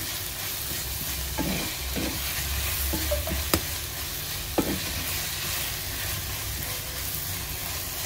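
Food frying in a pan on a medium flame for a mutton and cassava biriyani, with a steady close sizzle throughout and a few soft stirring scrapes and two sharp clicks.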